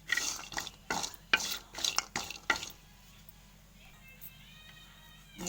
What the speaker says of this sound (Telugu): ఈ కొబ్బరి మొత్తం మంచిగా వేయించుకోవాలి. మంచిగా ఎర్రగా అయ్యేటట్టు వేయించుకోవాలి కొబ్బరిని.